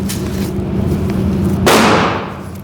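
A single sharp, loud gunshot from a rifle with an 8-inch, 1-in-5 twist 5.56 barrel firing 55 grain ammunition at a range, cracking close by and ringing off briefly amid a low background hum.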